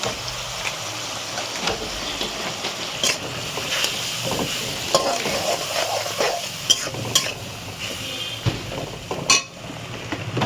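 Ground spices frying in oil in a pan while cooking chicken kosha, stirred steadily with a spatula, the close, continuous sizzle broken by sharp scrapes and clinks of the utensil against the metal.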